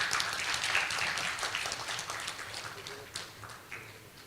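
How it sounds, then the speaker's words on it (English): Audience applause at an academic conference closing ceremony, moderately loud clapping that gradually thins and fades, with a few scattered claps near the end. "Warm applause, ladies and gentlemen."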